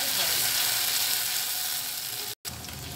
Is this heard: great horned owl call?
no